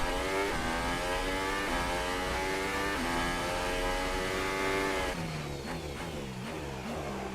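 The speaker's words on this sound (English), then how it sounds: "The car turned in, power down nicely." A Formula 1 race car engine in F1 2018 at Bahrain screams continuously, rising in pitch through the gears with brief drops at each shift, loud and sustained.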